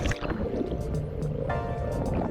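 A kayak paddles through water into a small lagoon on an island-hopping boat tour, with close splashing, dripping and sloshing strokes filling the short moment, no talking.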